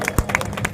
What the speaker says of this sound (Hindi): एक बार तालियां हो जाए।